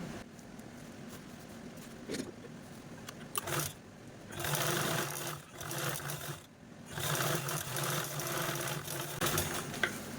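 A sewing machine stitching a fabric storage bag made from a blouse piece, running in a steady rapid whir with short pauses and restarts, close and fairly quiet.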